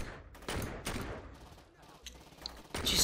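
Gunshots ring out in a Saints Row 2 firefight: several sharp bursts of game gunfire at irregular intervals, fairly quiet overall, with a louder volley at the end.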